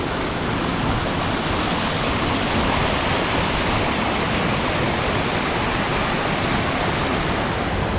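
Waterfall in a wooded Connecticut preserve near a swimming hole, a steady loud broadband rush of falling water that holds constant and close throughout, with no voices.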